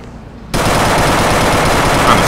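Sustained, dense automatic gunfire from a GTA IV police SWAT shootout erupts suddenly after half a second of quieter background and continues loud and unbroken to the end.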